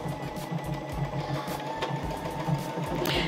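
A sewing machine runs at full speed with the foot pedal pressed all the way down, stitching a reinforcement stitch in a fast, steady mechanical whir with a rhythmic needle pulse throughout, close and continuous, with no talking.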